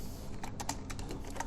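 Fast typing on a computer keyboard while building a WordPress homepage, with quick, close, crisp key clicks in an irregular burst and no voices.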